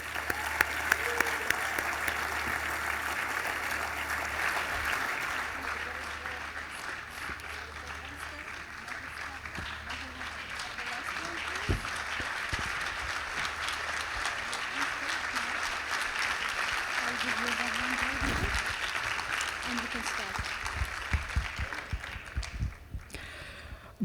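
Sustained audience applause at an inaugural dinner welcoming student Mohamed El Shafie to the stage, a dense, steady clapping wash lasting over twenty seconds before tapering off at the end.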